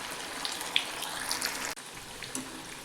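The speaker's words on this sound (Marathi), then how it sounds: "आता तेल तापलेलं आहे. त्याच्यात थोड्याशा बुडबुड्या कमी झाल्या की मग याला पलटी करून घ्यायचं." Vadas made from ground peas frying in hot oil over a lowered gas flame, a steady faint sizzling hiss with scattered crackles and no talking.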